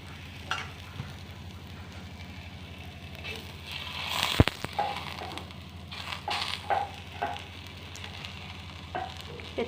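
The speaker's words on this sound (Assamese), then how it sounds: "তেলখিনি গৰম হোৱাৰ পাছতে মই টাৱাখনত পৰঠাখন দি দিলো, আলু পৰঠাখন।" Aloo paratha frying in hot oil on a tawa, a steady soft sizzle running throughout with a few sharper crackles and one brief loud clatter near the middle, over a low constant hum.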